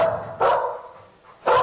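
A cadaver-detection dog barks twice, loud and close, in short sharp woofs with a quiet pause between them inside an apartment.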